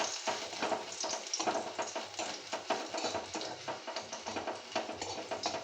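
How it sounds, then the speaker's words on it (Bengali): Garlic sizzles and crackles in hot oil in a pan while frying for harek rokom shak, a steady close frying hiss with rapid popping and occasional stirring scrapes, no voices. "এটা একটু ভেজে নেব। যখন একটা সুন্দর গন্ধ বেরোবে রসুন ভাজার, তখন জানবেন রসুনটা ভাজা হয়ে গেছে।"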